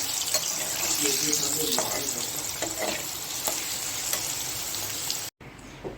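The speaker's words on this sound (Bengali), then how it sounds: "তার আলুটা ভাজছি আমি। আলুটা ভেজে রাখছি।" Potato pieces frying in oil, set aside for a Bengali mutton kosha, give a steady close sizzle with occasional stirring clinks, and near the end the sound cuts off briefly to a quieter hiss.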